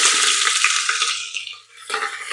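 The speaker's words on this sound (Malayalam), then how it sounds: "ഇനി കുറച്ച് ഉള്ളി ചേർക്കാം" Chopped onions hit a hot pan for khichdi with a loud, bright hiss that dips briefly, then flares up again.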